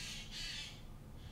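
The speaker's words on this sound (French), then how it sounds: "Normalement, c'est une pie." Magpie calling outdoors, two harsh rasping squawks, the first long and loud and a fainter one at the end, over a low background hum.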